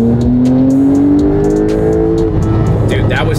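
A 2022 Porsche 911 Turbo S accelerating hard, its exhaust note climbing steadily in pitch, loud and close from inside the car, with road and tire noise underneath and a brief easing near the end.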